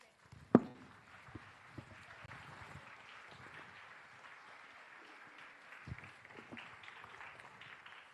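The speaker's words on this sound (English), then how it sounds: "A big round of applause for them." Audience applause at the Kalaarpanam 2025 cultural event, heard as faint, steady clapping from a distant crowd that carries on throughout, with one sharp knock near the start.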